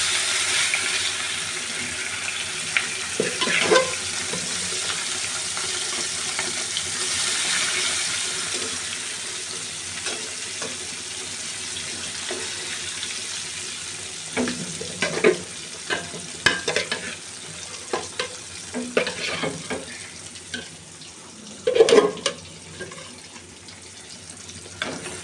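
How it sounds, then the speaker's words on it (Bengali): Tilapia fish frying in hot oil in a kadai, a steady sizzle running throughout with occasional scrapes and clinks of stirring that grow busier toward the end. "তেলাপিয়া মাছ তেলে ভাজবো।"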